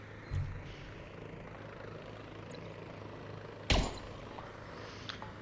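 Helicopter in flight in the video game Vertigo 2, a steady rotor and engine drone that runs throughout, broken by two sharp thumping impacts, one at the start and a louder one partway through.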